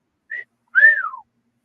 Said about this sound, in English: like The wolf whistle